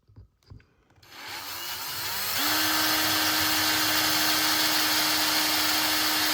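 A power drill bores through a resin-coated painted clock held in a jig, starting with a few handling knocks, then ramping up into a loud, steady high-pitched whine that holds to the end.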